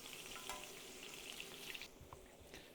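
Shawarma meat sizzles and crackles steadily on a hot metal saj outdoors in freezing weather, fairly quiet, with a few soft scraping touches.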